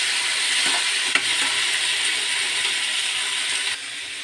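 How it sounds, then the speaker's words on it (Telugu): A raw tomato mixture fries in hot oil for tomato pachadi, a loud, close, even sizzle with a single clack of a utensil near the start. "అదే ఆయిల్లో ఈ టమాటా పచ్చి మిక్స్ చేసుకొని వేసుకుందామండి."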